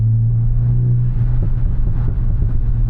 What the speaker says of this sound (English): now we're going to drop it down to third gear. Now you can already hear more pops.